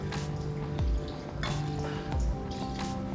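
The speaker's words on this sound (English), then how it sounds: "now we're gonna go ahead and get ready to pour this Hennessy in" Hennessy cognac poured into a frozen Incredible Hulk cocktail, heard as close wet dripping and splashing in short bursts with gurgling liquid, no talking.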